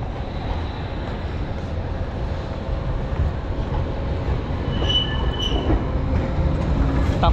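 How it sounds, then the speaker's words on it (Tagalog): A number 9 tram in Zagreb, Croatia rumbles steadily along the rails nearby, a continuous low roar with brief high wheel squeals partway through. "Ayun na yung tren"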